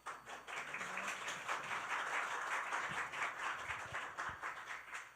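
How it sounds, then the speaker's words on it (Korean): A church congregation applauds together to welcome a missionary to the front, producing dense, sustained clapping that fills the room at an even level, with a few louder thumps near the end. "우리 장대입이 선교사님 나오실 때 우리 박수로 우리 환영하도록 하겠습니다"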